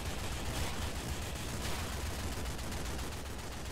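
A weapon firing fire projectiles in the video game Nuclear Throne, with a dense, continuous rumbling burst of gunfire and crackle at moderate level and no talk.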